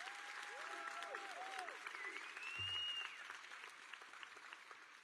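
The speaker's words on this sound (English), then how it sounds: "Can you give this young lady another round of applause" A graduation audience at Glenville High School's 2023 ceremony applauds steadily, a dense far wash of clapping at moderate volume with faint whoops and a brief low thump.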